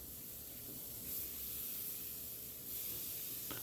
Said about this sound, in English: Made sure to leave the volume on so you can hear a little bit of sizzle when these get thrown on.